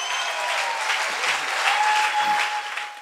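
A church congregation breaks into sustained, dense applause in praise of Jesus, a steady wash of many hands clapping together, loud and continuous throughout.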